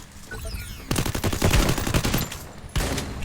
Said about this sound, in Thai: ปืนก็แรงเกินสองเม็ดตายเลยเหรอสองเม็ดอะ